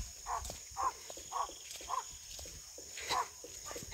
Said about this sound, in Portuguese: Aquilo é duque latindo com os boi.